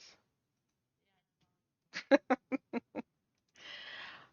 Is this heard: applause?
no